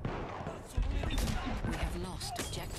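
Battlefield 1 video game combat, with a sharp sniper shot and scattered gunfire crackling at low level through a noisy battlefield mix, mostly in brief bursts.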